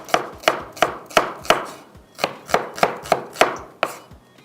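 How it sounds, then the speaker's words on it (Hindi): A knife slices through an onion in about a dozen crisp, evenly spaced cuts, loud and close, with a short pause midway and no talking. "प्याज को हम स्लाइस में कटिंग कर लेते हैं"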